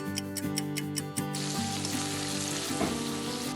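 Chicken pieces frying without oil in a Saladmaster 3-quart wok, a steady close sizzle with a few sharp clinks early on before the hiss spreads and stays constant.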